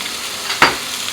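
Bok choy hits a hot pan with garlic butter where crayfish are searing, giving a brief burst of sizzle over a steady frying hiss, close and moderately loud.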